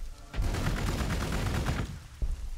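Rapid bursts of gunfire in Warhammer 40k Gladius rattle continuously for about two seconds, dense and loud, then stop, followed by one last sharp shot.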